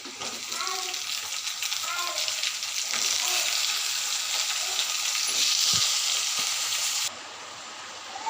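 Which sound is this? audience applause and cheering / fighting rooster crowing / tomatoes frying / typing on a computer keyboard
tomatoes frying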